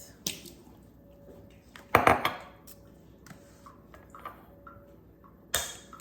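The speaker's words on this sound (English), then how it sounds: "So I'm going to crack these eggs." Three eggs cracked against the rim of a measuring cup while baking a strawberry cake, a few sharp clicks and taps including one louder crack near the middle, close and alone with no talk.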